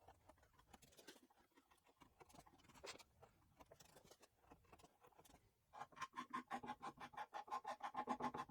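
A chisel carves thumb grooves into hard maple for a card scraper holder, starting with faint scattered scrapes and then settling into a steady run of quick, rhythmic scraping strokes, quiet and close.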